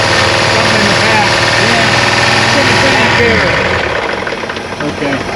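A loud, steady idle from a 1957 Chevy Bel Air's 283 V8 rumbles close by with a deep, uneven throb, holding a constant drone that eases slightly toward the end.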